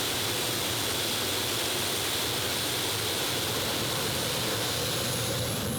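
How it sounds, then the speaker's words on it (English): Tractor pulling machine with Isotov turbine engines at a 4.5-ton class event in Herning, a dense, steady roaring hiss from a distance, rising slowly as the revs build. "And then letting the Isotov turbines do the business."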